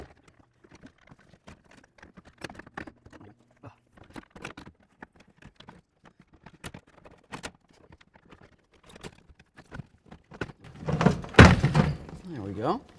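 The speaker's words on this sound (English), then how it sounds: "Now we're going to put it inside the door." Window regulator being fitted inside the door of a Chrysler Town & Country minivan: scattered light knocks and taps of metal parts against the door panel, growing into a louder cluster of clunks and scraping near the end.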